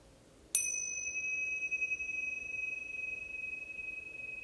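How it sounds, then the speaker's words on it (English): A single meditation bell is struck once and rings on in a clear, pure tone that slowly fades against a quiet room. "allow the sound of the bell and the silence that follows to welcome"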